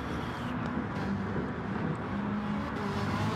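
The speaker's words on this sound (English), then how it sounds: "Just hear the exhaust crackle as the cars backfire in a downshift." A Ferrari 458 in a racing video game drives with a steady, loud engine drone throughout, broken by a few brief sharp pops from the exhaust on downshifts.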